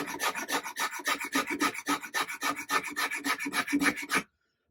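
A rasp files rhythmically across the wooden neck of a guitar being carved, quick repeated close scraping strokes in steady succession for about four seconds, then silence.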